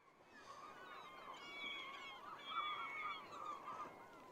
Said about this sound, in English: Birds going nuts and being right on top of it.